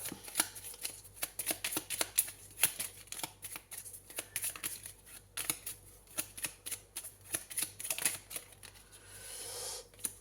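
Tarot cards are handled and drawn from a deck in a quick series of crisp snaps, flicks and riffles, close and fairly quiet, ending in a softer rustle.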